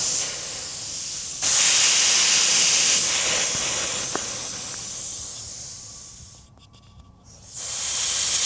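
SmittyBilt 5.65 CFM air compressor after four years of use, letting out a steady loud hiss of escaping air that swells, fades briefly near the end, then returns, heard close up without talking.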